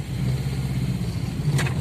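A car engine with a fault where it hums but will not accelerate or pull in third gear, droning steadily and fairly close, alone without talk.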